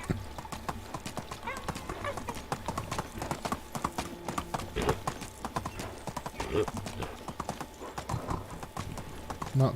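Horse hooves clop rapidly in a galloping rhythm in the Medieval Dynasty video game, steady and prominent throughout, with a whinny and people talking over the hoofbeats.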